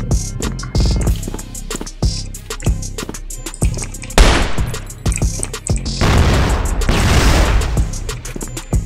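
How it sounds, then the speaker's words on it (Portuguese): Rapid bursts of M4A1 rifle fire from a video game, loud close shots in quick rhythmic strings with heavier sustained volleys toward the end. "Aí os caras escutam um tiro"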